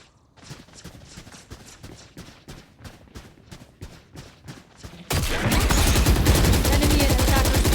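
Rapid video game gunfire, a run of evenly spaced shots that swells abruptly into a dense, loud continuous barrage of automatic fire.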